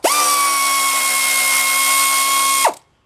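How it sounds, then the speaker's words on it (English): Pneumatic air tool running on a Chevy Venture during a water pump job, a loud, steady high-pitched whine held for under three seconds before spinning down and stopping. "oh, I'm bringing out the air tools."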